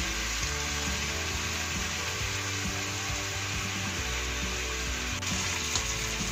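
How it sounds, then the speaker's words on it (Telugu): Onions sizzling softly in a pan with salt, a steady, close, continuous frying hiss with a faint bubbling undertone throughout, no talking. "మనకి ఆనియన్స్ ఫ్రై అయిపోతున్నాయి ఇట్లా సాఫ్ట్గా"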